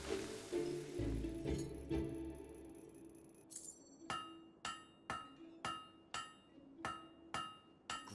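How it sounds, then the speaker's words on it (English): A hammer forges a blade on an anvil in Fable 3, starting with muffled clatter and then a steady series of about nine sharp, ringing metallic strikes at an even rhythm. "Great hammer work there."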